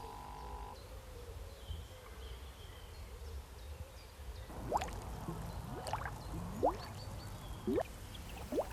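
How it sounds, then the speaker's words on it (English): Air bubbles from an aquarium air compressor pushed through old rigid hose into cloudy organic pond water, a run of quiet gurgling blips that starts after a few seconds of near silence and comes in uneven bursts. "The bubbles are drawing water from under the planted zone, a massive biological filter"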